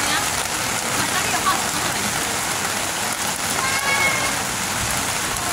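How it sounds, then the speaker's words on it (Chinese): Heavy rain pours at an outdoor sky lantern release in Pingxi, a loud, dense, steady wash of falling water with faint voices blended into the downpour. "下大雨了"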